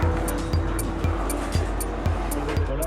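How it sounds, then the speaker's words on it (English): A Le Mans race car rolling back into the pit garage, its engine a steady, loud drone with a regular pulsing thump about every half second. "The car is pulled back into the garage."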